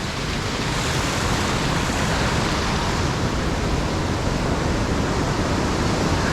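High water rushes over the boulders of Cucumber Rapids at Ohiopyle, a dense, steady roar of whitewater that fills the whole sound without a break.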